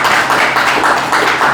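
A small audience at a club gathering claps in dense, steady applause to welcome a guest, loud and close, with no talking.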